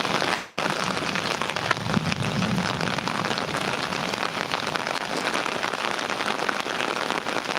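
Rain pouring steadily during a stormy day, a dense close hiss of drops pattering on surfaces with faint scattered crackles, continuous and unbroken apart from a brief dip near the start.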